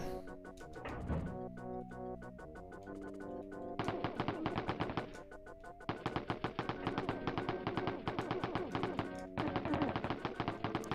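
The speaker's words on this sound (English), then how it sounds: "He's shooting through the walls." Enemy gunfire through walls in the SNES version of the video game Wolfenstein 3D, with rapid chattering bursts of retro machine-gun shots repeating in clustered volleys over a looping game score.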